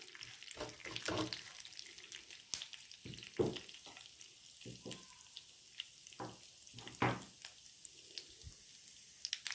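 Chana dal and urad dal fry in hot oil in a pan, giving soft continuous sizzling broken by brief clinks and stirring knocks, fairly quiet with no talk.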